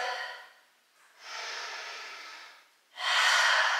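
Heavy, close breathing while resting in child's pose after a vinyasa yoga flow: three distinct breathy exhales and inhales with short pauses between, no talking.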